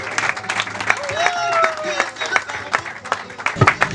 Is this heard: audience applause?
yes